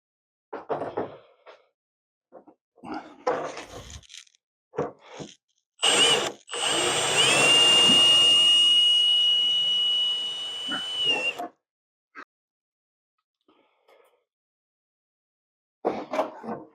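A power drill drills out rivets from a car hardtop on a Bugeye build, with short whirring bursts followed by one long, loud drilling run, then quiet.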